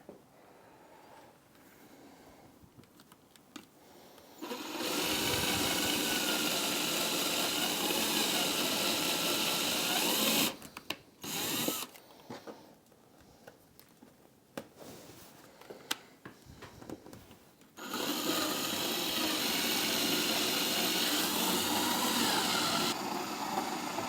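A power drill with a step bit whirs loudly for several seconds drilling through a painted Harley-Davidson saddlebag, stops, then after a pause of quieter handling noises, starts again and runs steadily to the end.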